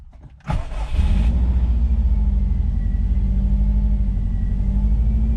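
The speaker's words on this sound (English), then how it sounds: "Car has started, a little bit iffy, but it also hasn't been started for quite a while." A Subaru with a freshly installed rebuilt 5-speed manual transmission, raised in the air, cranks briefly and catches, then settles into a loud, slightly uneven low idle rumble that continues steadily.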